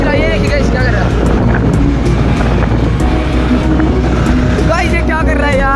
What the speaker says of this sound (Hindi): बहुत तेज स्कूटर चलाइए